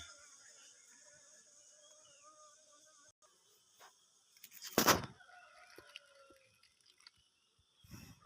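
Chickens cluck and call in an outdoor rural setting, a few scattered bursts with one louder squawk in the middle, over a faint insect buzz and occasional distant voices.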